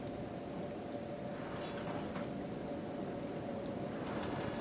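Steady rain falls in the video game Kenshi, a dense continuous hiss of drops at an even level throughout, with no voices.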